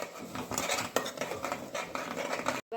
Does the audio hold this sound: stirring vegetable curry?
yes